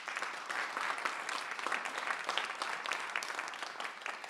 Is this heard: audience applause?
yes